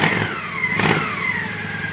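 A stock 2001 Honda Shadow 750 ACE motorcycle engine revs close by, its pitch sweeping up and gliding back down in a steady, loud mechanical drone.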